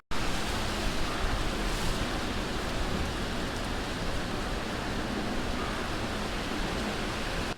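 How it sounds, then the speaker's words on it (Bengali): Heavy rain falls outside a colony house, a loud, continuous rushing wash of water that stays steady and close from start to finish with no voices. "এখনও কিন্তু বৃষ্টি হচ্ছে"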